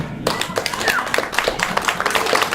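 Dense applause from a crowd after a live band performance with fiddle, rapid overlapping claps at moderate volume with some voices mixed in.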